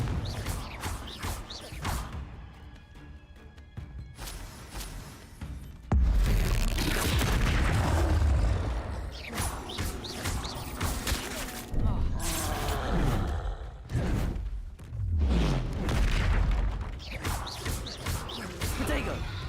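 Fiery spell explosions from the Hogwarts Legacy video game, Confringo blasts booming and crashing in rapid succession through a chaotic battle, with whooshes, crackling debris and a voice shouting over the loud, dense combat.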